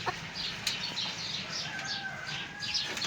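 Chickens cluck and a rooster calls outdoors over steady wind noise, with occasional wing flaps; the birds sound moderately close.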